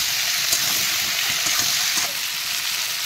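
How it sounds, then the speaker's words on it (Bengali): Tomatoes fry with chopped stalk vegetables in a pan for a poppy-seed dish, giving a steady, loud, close sizzle broken by a few stirring scrapes, with no talking. "এবার আমি টমেটোগুলো দিয়ে দেবো, একটু ভাজা ভাজা করে নেবো, তারপরে মশলা দেবো।"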